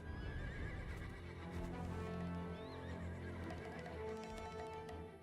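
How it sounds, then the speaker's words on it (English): Horses neighing and whinnying in the video game Black Desert, with hoof clip-clops mixed in, set over a sustained musical background throughout; loud and close with no speech. "The horses won't budge thanks to that scary lot"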